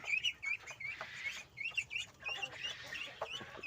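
A backyard flock of ten ducks with ducklings at feeding time, giving a steady chorus of high, overlapping peeps and chirps that rise and fall in quick bursts throughout.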